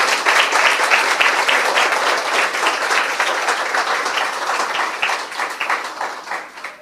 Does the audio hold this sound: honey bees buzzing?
no